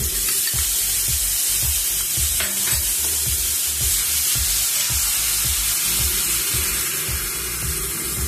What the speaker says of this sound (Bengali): এবার লঙ্কা জিরে বাটাটা দিয়ে দিচ্ছি।